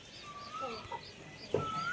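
Faint clucking from native country chickens for sale in Tuticorin, a few soft calls close together over quiet background noise.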